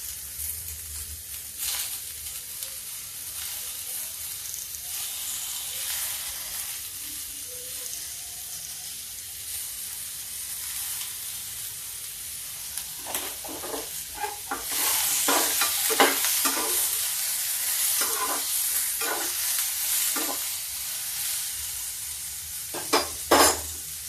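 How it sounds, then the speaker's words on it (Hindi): Steady sizzling of onions and tomatoes frying in a pan for a dry ivy gourd curry, with scraping and stirring clatters growing busier toward the end; no talking. "धीमे धीमे करके इसको भून लेते हैं।"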